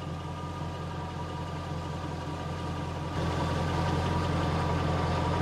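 A Jaguar XK8 engine idles steadily during a gearbox oil level check, a low, even hum that grows slightly louder about halfway through, with no talking.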